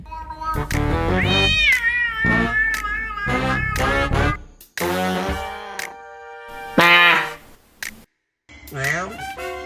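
A pet cat making strange, drawn-out meowing noises, several loud wavering yowls close by, some long and tonal, separated by short pauses, with a person's voice around them.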